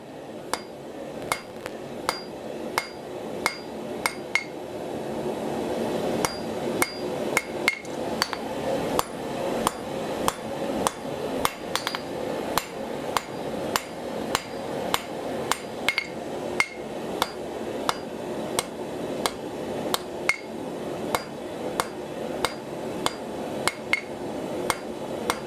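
A blacksmith's hammer strikes hot metal on the round die at the anvil horn, sharp ringing blows landing in a steady rhythm about once a second, close and clear with no talk.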